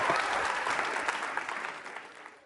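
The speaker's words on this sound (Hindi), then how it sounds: "सुनंदा चतुर्वेदी मैम के लिए तालियां जोरों से बजाइए, जोरदार तरीके से।" Audience applause for a teacher at a university quiz show held for Holi, a dense burst of clapping that starts strong and gradually tapers off over a couple of seconds.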